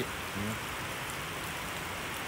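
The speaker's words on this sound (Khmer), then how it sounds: "ភ្លៀងស្រាក់ស្រាក់ចេះនៅឃើញ" Heavy rain falls at a workplace, a continuous soft wash of drops on surfaces at a fairly low level, with a faint brief tonal sound early on and no speech.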